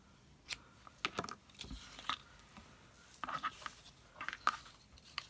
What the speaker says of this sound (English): I'm going to trim this off just a little bit because I made this one extra long